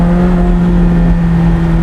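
A McLaren 765LT accelerates hard out of a corner, its loud, steady engine drone heard from close inside the car for a short burst.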